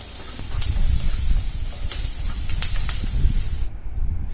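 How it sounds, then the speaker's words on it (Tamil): Ginger garlic paste sizzles steadily in a hot pan while being sautéed for pav bhaji masala, a loud continuous hiss with small crackles and pops throughout. "இது கொஞ்சம் பச்சை வாசம் போகிற அளவுக்கு நல்லா வதக்கிக்கலாம்."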